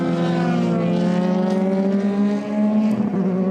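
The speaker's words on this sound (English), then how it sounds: "Yanis Fitcher accelerates through the final corner" A Euro Formula Open race car accelerates at Paul Ricard, its engine a loud, steady, rising drone with layered harmonics sustained throughout, close and dominant with no talk over it.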